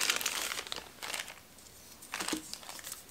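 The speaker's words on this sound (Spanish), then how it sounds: "Esta es una bolsa de plástico." A plastic bag crinkles and rustles in a few short handled bursts, close and fairly quiet, as the packaging around a cloned Kershaw Launch 10 automatic knife is moved.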